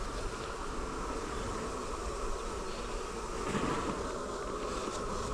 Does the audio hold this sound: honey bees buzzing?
yes